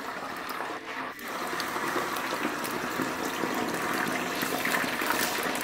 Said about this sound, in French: je vais mettre cette picanha dans l'huile chaude.